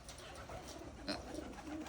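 Pigeons coo softly nearby among other wild birds, with low murmuring calls over a noisy outdoor background.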